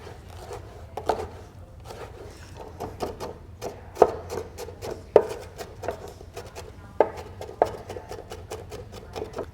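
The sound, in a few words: chopping vegetables with a knife on a cutting board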